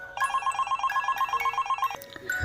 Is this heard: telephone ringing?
yes